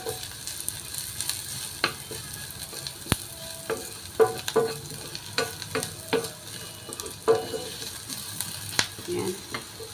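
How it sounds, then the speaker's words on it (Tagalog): Garlic and onion fry in a pan until browned, with a low, soft sizzle under intermittent sharp scrapes and knocks of a spatula stirring. "Maluto ng maganda yung bawang at saka lusa na mabango"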